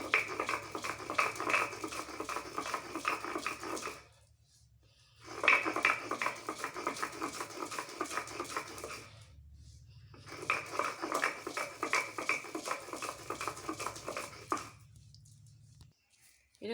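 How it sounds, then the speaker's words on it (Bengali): Lentils ground by hand on a sil-bata grinding stone into batter for goyna bori, making close, rhythmic rasping scrapes in three long runs separated by short pauses. "এরকমভাবে আমি পুরো ডালটা আমি সিলবাটায় বেটে নিচ্ছি।"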